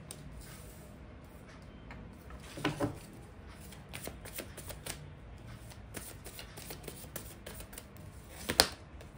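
Tarot cards being shuffled and drawn by hand: soft papery riffles, slides and sharp little taps as cards are laid down, close and fairly quiet, with a few louder snaps and no speech.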